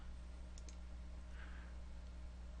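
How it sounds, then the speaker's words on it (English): A computer mouse clicks a few times, faint and close, over a steady electrical hum while setting up a C++ project. "We'll right click on our project, click on Properties,"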